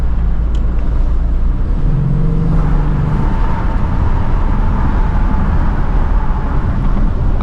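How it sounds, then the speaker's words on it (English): An EcoBoost Mustang driving on a bright, cold fall day, with steady road and engine rumble from inside the cabin and a faint, high turbo whine rising partway through. No talking. "I don't know if you guys can hear that turbo squealing or not, but it definitely sounds nice."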